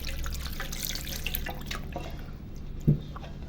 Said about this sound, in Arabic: نحط كوباية مية دافية.